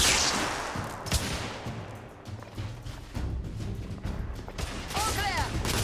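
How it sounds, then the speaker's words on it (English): Rapid gunfire as suppressive fire in The Order: 1886 crackles in dense, overlapping bursts of sharp reports throughout, loud and close, with a voice shouting briefly near the end. "Igraine, lay down suppressive fire!"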